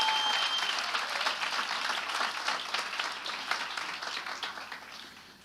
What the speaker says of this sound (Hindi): क्या हम सब मिलके यीशु के लिए ताली बजा सकते हैं?